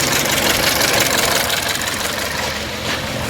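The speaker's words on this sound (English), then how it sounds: "I'm going to turn the engine on and off a couple times" A Chevrolet Cruze engine runs after being replaced, a loud, close, steady idle with a dense rumble and slight knocking texture throughout.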